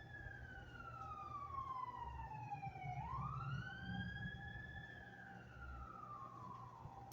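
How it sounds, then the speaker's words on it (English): An ambulance siren wails in a clear rising and falling sweep, dipping low and climbing again over steady traffic rumble, moderately close and continuous with no talking. "listen, that's an ambulance."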